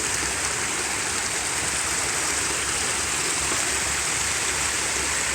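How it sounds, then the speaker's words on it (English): Garden waterfalls pour in a constant, dense rush of falling water, loud and near, unbroken for the whole stretch with no voices. "Here we are, closer to the waterfalls."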